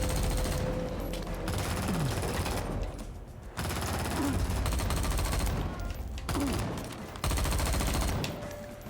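Sustained gunfire in the video game XIII, with dense rapid bursts and fusillades of shots crackling loud and continuous through the whole stretch, broken by a few brief lulls.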